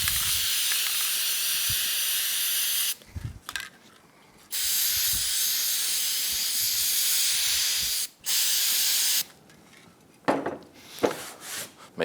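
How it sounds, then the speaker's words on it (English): Long hissing bursts from a spray can spraying oil onto a foam air filter from a Yamaha YXZ1000R, several sustained sprays separated by short pauses and faint handling noises, close up. "What you would do, spray it down, and then we're going to knead it in to the foam itself."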